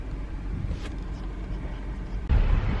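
A 6-speed manual Acura TSX idles with a low, steady engine rumble close by, with a brief bump and a slight rise in level near the end.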